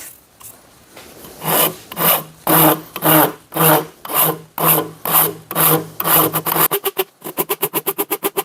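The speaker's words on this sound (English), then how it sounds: "I'm going to take this down with the rasp" Wood rasp filing a Padauk guitar part, about a dozen loud, even rasping strokes close up, then a quicker run of short scraping strokes at the end, with no voices.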